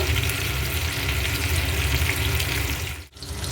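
Chicken pieces frying in a pan for chilli chicken, making a dense continuous sizzle that briefly drops out near the end before resuming, with no talking.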